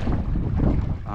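Loud, blustery wind buffeting the microphone during ultralight lure casting, in a continuous low rumble, with a faint watery wash underneath.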